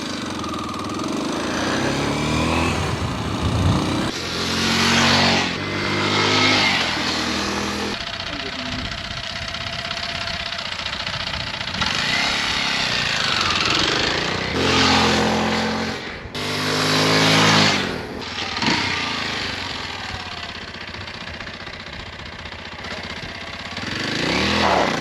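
A Kawasaki KLX230S motorcycle rides up and down past the camera, its engine swelling loud as it nears and fading as it pulls away several times, with a steadier distant engine drone between passes.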